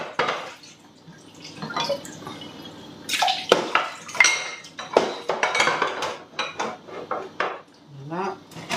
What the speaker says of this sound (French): On a toujours de la vaisselle, hein, quand on cuisine.